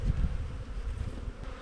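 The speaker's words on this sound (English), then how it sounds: "I'm going to shake all bees on that landing board" Honey bees from a queenless colony buzz close by as they are shaken off hive frames onto a landing board, a short, dense, low hum with soft thuds at the start.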